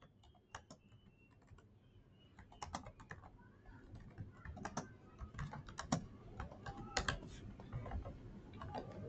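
Steady typing of JavaScript code on a computer keyboard, quick irregular key clicks running throughout at close range with no talk.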